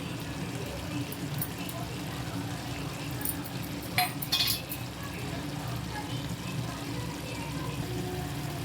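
A spoon stirs an eggplant and moong dal curry simmering in a pan, giving a soft, continuous bubbling and scraping with a brief clatter midway, while someone talks over it.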